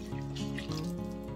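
Warm water poured in a steady stream into a bowl of flour, salt and yeast for bread dough, a brief close trickle with bubbling tones and no speech.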